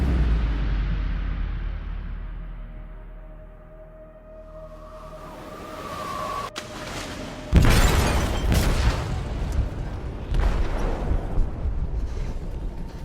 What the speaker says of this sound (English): detonated an explosive in the hold